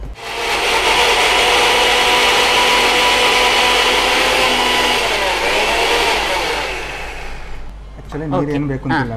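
Mixer grinder pulverizing ripe tomatoes without water, a loud steady whirring motor drone with a rough grinding texture that runs for about eight seconds before winding down, followed by brief talk.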